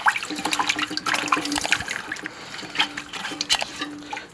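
Water is sloshed by hand down the flush valve of a toilet tank during a repair, producing repeated splashing and gurgling bursts at close range.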